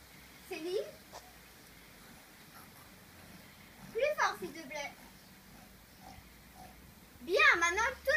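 Schoolchildren in a farm-themed class lesson imitate a pig's oink with their voices, three short nasal grunting bursts spaced apart over a quiet room.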